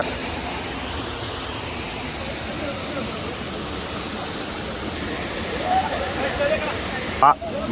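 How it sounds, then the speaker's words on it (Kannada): Vibhuti Falls, a waterfall, gives a steady broadband roar of falling water throughout, with a short louder knock or splash near the end and no clear talking. "ನಾವು ವಿಭೂತಿ ಫಾಲ್ಸ್ ಬಂದೀವಿ"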